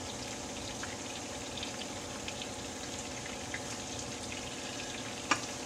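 Pieces of Italian-style fried chicken sizzle steadily in hot oil, a dense, even crackle throughout with one sharp clink near the end as a piece is flipped, and no talking.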